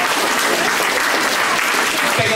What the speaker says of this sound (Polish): Proszę państwa, nieduże brawa dla pani Aliny